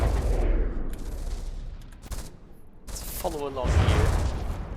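Heavy guns fire in a video game battle among CRAM shells, flames and an APS gun: dense, rumbling volleys of broadband blasts and booms, with a voice talking over parts of it.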